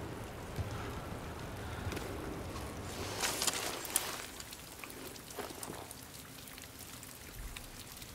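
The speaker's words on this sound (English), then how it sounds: "You don't need to wait out the rain." Rain falling in the video game Death Stranding, a soft, steady patter of drops on surfaces, fairly faint, with a few brief louder splashes and bursts in the middle.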